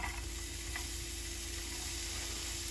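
Onions frying in leftover hot oil in the same pan, a steady low sizzle with a constant hum running underneath, no talking.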